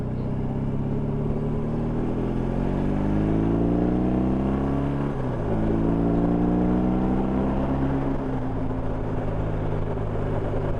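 BMW R18 Transcontinental motorcycle, a big boxer-engined tourer, accelerating through the gears with a deep, throbbing rumble that rises in pitch, drops at two shifts, and climbs again, steady and close.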